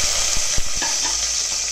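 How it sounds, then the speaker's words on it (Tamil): Fennel seeds, cinnamon and cloves temper in hot oil for vegetarian nombu kanji, giving a steady, bright sizzle with a few soft knocks from stirring, close and alone without talk. "இப்போ முதல்ல நம்ம சோம்பு, பட்டை, லவங்கம் இது போட்டு தாளிச்சுக்கலாம்."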